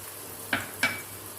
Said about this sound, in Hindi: जीरा डालेंगे।